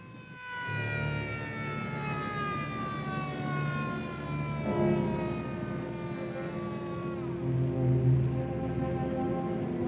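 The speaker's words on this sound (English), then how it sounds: "Brand new ambulance." A brand new ambulance siren wails continuously, its rising and falling tones loud and close, sweeping steadily over a rumbling engine with no talk.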